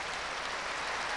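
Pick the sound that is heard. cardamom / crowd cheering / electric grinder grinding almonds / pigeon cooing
crowd cheering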